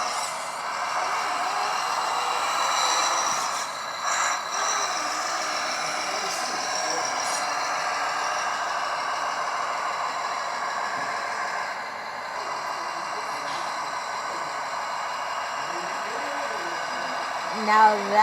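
A 1/12 scale CROSSRC BC8C Mammoth 8x8 RC truck drives off-road, its electric motor whining steadily and fairly loud throughout with a brief rise near the end, with no one talking over it.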